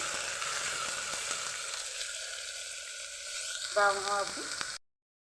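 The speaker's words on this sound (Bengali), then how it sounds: "একটু ভেজে নেব আমি" Sliced onions frying in a pan for mutton curry, a constant close sizzle with a brief burst of louder stirring near the end before it cuts off.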